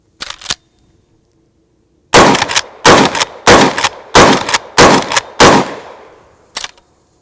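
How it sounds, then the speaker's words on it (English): Seven loud, sharp shots from a Henry Big Boy lever-action carbine firing Blazer aluminum 158-grain jacketed hollow point .357 Magnum rounds, one single shot followed after a pause by a steady string of five and a final shot, no talking. "this is Blazer aluminum 158 grain jacketed hollow point 357 Magnum"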